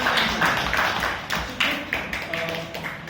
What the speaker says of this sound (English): Big round of applause for Toastmaster Iyas.